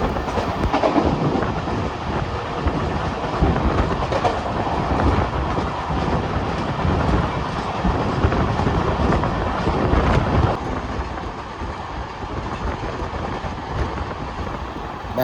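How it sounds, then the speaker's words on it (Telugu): Trains running back to back along a railway during a Solapur–Lingampalli journey, a steady loud rumble of rolling wagons with faint clickety-clack and wind buffeting, continuous throughout and easing slightly near the end. "బ్యాక్ టు బ్యాక్ ట్రైన్స్ వెళ్తున్నాయి"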